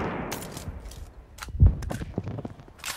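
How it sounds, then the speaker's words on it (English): A single loud gunshot from a video game battle-royale rifle thuds out near the middle, over a busy bed of footsteps and game noise, with no talk. "Dude, this gun's really loud."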